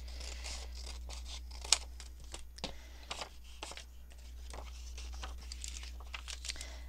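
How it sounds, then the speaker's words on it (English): Scissors snipping through the paper flap of a window envelope being trimmed to size for a junk journal pocket, a series of soft, close crisp cuts and paper crinkles over a low steady hum. "So we'll just cut that off"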